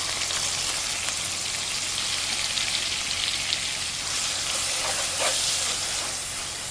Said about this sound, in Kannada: ಈಗ ಇದು ಹಸಿ ವಾಸನೆ ಹೋಗಬೇಕು, ಅಲ್ಲಿ ತನಕ ಇದನ್ನು ಫ್ರೈ ಮಾಡ್ಕೊಳ್ಬೇಕು.